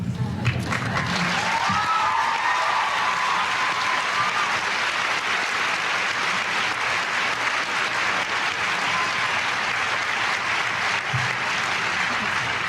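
Sustained audience applause at a graduation speech, a broad, even wash of many hands clapping with some cheering voices near the start, steady throughout.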